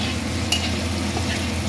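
Bitter gourd, potato and onion fry in a pan, a steady low sizzle with a single sharp clink of utensil against the pan and soft stirring scrapes, close by and without speech.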